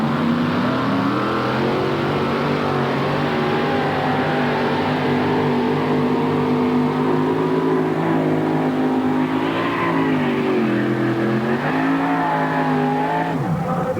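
A Ford two-wheel-drive pulling truck roars under full power during an NTPA truck pull at Chapel Hill, Tennessee in 1993, with a loud, sustained engine drone whose pitch rises and wavers and then drops sharply at the end.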